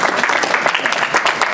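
A standing audience at a Cameron High School class of 1966 50th-year reunion applauds Linda Faith Bentley, a close, loud, continuous wash of clapping throughout.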